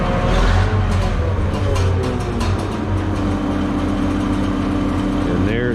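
A Minneapolis Moline tractor engine running on propane settles into a steady, even idle, close by with a continuous low rumble and no breaks.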